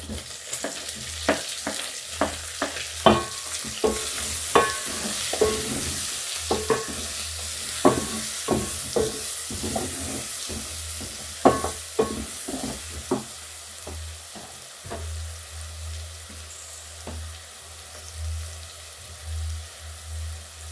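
Onions frying in a pot for pilau, with steady sizzling and repeated scraping stir strokes throughout, close and fairly loud, a low hum underneath and no talking.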